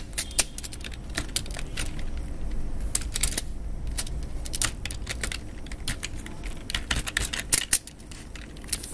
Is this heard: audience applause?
no